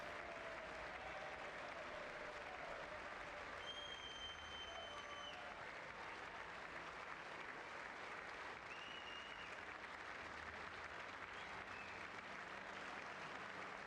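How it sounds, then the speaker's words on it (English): Sustained applause from a large audience at the 2026 State of the Union address, a dense, even clatter of clapping that continues without pause, with faint whistles rising here and there. "they've been applauding so long that I forgot what they were applauding for"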